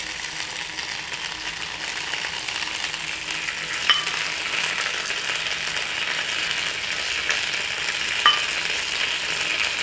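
Chicken sizzles steadily in a Teflon pan while seasoning sauce is brushed on for honey grilled chicken, a loud continuous frying hiss with two brief sharp clicks, no talking.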